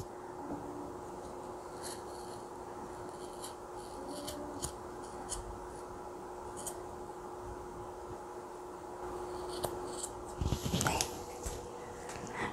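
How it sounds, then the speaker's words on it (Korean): Scissors trimming the dangling ends of macrame cord on a wall hanging, a few quiet snips and light rustles over a steady background hum, with a brief cluster of sharper cuts near the end. "밑에 이 남은 실들이 최대한 같은 길이가 될 수 있도록 잘라주세요."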